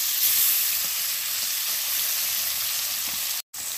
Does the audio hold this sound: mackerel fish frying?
yes